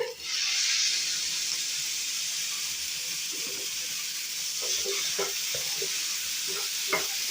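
Tomato frying in a pan for paneer masala, a loud hissing sizzle that surges at the start and settles into a steady frying sound with light stirring taps.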